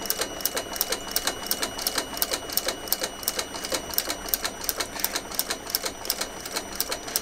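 A sewing machine stitches a seam in a leather bag, giving a fast, steady run of close, even mechanical clicks that carries on without pause, with no voices.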